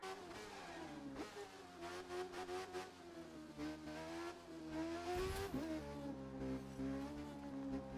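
A car accelerates in The Crew 2, its engine droning steadily and rising and falling in pitch as the throttle is worked. There is a brief tyre-squeal or gear-change moment near the end, and no voices.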